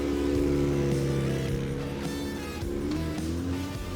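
Powerful, fast cars roar and drone nearby in a drift zone at a charity event in Kraków, pitch shifting as they rev and sweep past, a loud continuous mechanical rumble.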